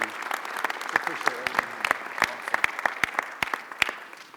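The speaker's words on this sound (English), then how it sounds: "let's give Mayor Nutter one more round of applause, please" Sparse applause from mayors in a conference hall at the US Conference of Mayors in Las Vegas, a modest round of separate, distinct claps spread over a few seconds, moderately distant.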